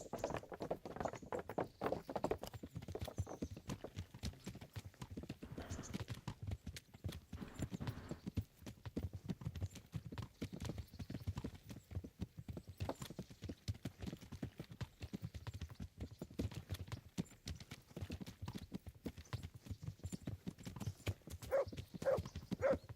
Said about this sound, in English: Stay away from people if you can't ride a horse